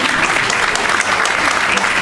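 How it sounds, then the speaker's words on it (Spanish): A live jazz café audience claps loudly, producing dense, continuous applause that fills the room for the whole stretch. "Un aplauso."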